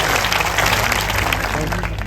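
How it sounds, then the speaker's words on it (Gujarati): Dense, steady crowd applause fills a rally gathering, loud and continuous from start to finish with no clear pauses, given in honor of police officers keeping order. "એમના માટે પણ જોરદાર તાળીઓ પાડો"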